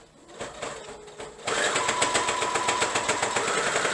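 A sewing machine stitches through several layers of fleece for a small guinea pig bed, starting with a few slow stitches and then running in a fast, steady mechanical whir, close and fairly loud.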